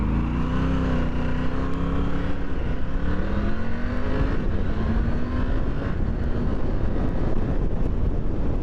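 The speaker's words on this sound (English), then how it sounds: "Effortless acceleration and a lovely sound from that T-plane crank." Triumph Tiger 900 Rally Pro motorcycle with a T-plane crank engine accelerating, its exhaust note rising steadily through the revs, loud and close with wind rush layered over it.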